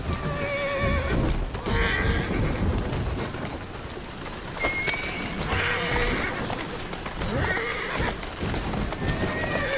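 Rapid hoofbeats of a galloping horse in the video game Assassin's Creed Syndicate, with several loud neighs and whinnies rising over the clatter, continuous and close.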